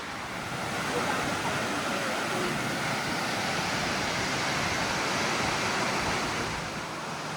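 A forest waterfall pours continuously, a broad, even rushing hiss of falling water heard up close, steady throughout with a slight swell, and no talking.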